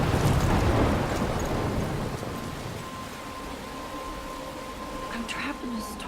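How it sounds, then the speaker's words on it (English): Storm in the video game Life is Strange near a lighthouse: heavy rain rushes loudly, then eases into a softer wash with a low rumble of thunder and a faint tonal whine. "I'm trapped in a storm?"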